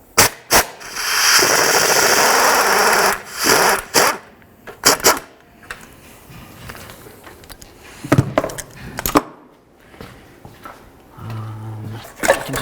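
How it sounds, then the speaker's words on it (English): A 10mm socket tool working a nut loose on the lower shield of a Dodge Journey, heard as a scattered run of sharp clicks, ratcheting and metallic knocks with quieter gaps between bursts. "So I'm just going to go ahead and get my 10mm on there. We'll fully remove this nut."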